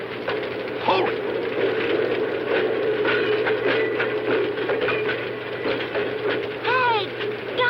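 A train passes in a scene from the 1966 film Gammera the Invincible, with a steady rumble, clattering and sharp metallic squeals, under indistinct voices.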